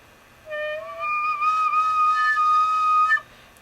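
A tin whistle sounds a few held notes, one clearly squeaking with a thin, wavering overtone because a finger hole is not fully covered, bright and close with silence before and after.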